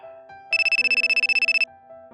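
A phone rings in an anime manga dub, a loud electronic trill of rapid identical pulses lasting about a second, with soft background music before and after.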